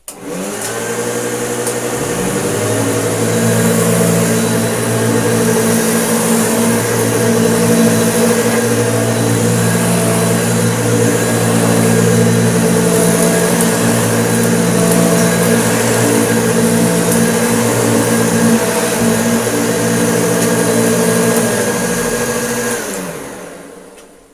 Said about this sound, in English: the metal agitator on this Hoover, it just beats the carpet more than the